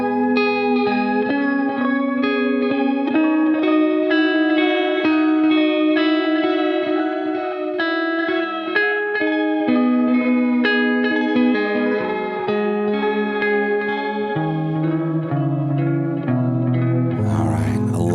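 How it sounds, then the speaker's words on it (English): A clean, shimmering guitar tone through a shimmer reverb delay pedal plays sustained chords with lush, swelling reverb and echoing repeats that trail off, steady and loud with no talking. "ambiental is a very pretty shimmer reverb delay."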